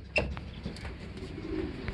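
Racing pigeons returning to their loft from a long-distance race release point coo softly, with a short flutter-like burst near the start and low murmuring calls beneath steady background noise.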